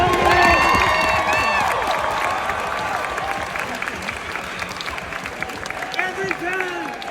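An audience at a final performance of the musical Ain't Too Proud claps and cheers, a loud sustained roar of applause with whoops and whistles rising over it, fading gradually.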